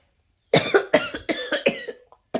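One person with a heavy cough lets out a rapid fit of about eight harsh coughs in quick succession, close and loud, then a short pause and one more cough.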